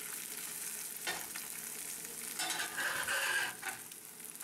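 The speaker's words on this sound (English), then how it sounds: "it's the scraping sound made by the spatula when it moves across this rough surface" Metal spatula scraping across a rough cast iron skillet while eggs fry, giving short gritty scrapes over a soft steady sizzle, fairly quiet and close, with no voices.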